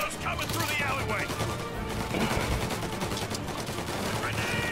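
Dense, loud gunfire from the Mafia Definitive Edition video game, with rapid overlapping shots forming a continuous fusillade and heavy blasts that fit a shotgun, under a busy game soundscape.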